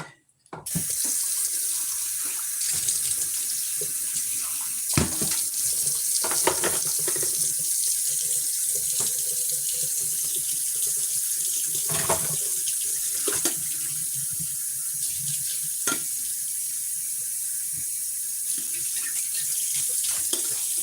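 Tap water runs steadily into a coffee maker reservoir, a continuous hissing splash at the kitchen sink lasting throughout, close and alone with a few small clinks.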